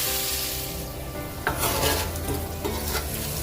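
Jackfruit pieces browning with turmeric in hot oil give a constant loud sizzle, with occasional scraping stirs of a utensil against the pan, close up and with no talking.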